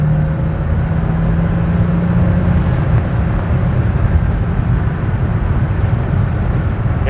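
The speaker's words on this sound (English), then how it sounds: "when that Porsche turbo kicks in, but 350 horsepower" 1989 Porsche 930 Turbo with a 350-horsepower turbocharged engine, heard from inside while driving as a loud, steady, broadband engine and road roar without talk.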